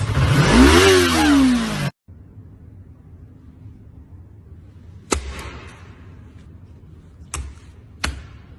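Motorcycle engine revving hard, a loud rising and falling roar that cuts off abruptly, followed by quiet low hum and a few sharp knocks.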